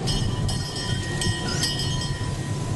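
A small train carries riders around a miniature park. It rumbles steadily with rolling wheel noise, faint clinks and brief metallic squeals, heard close with no talk.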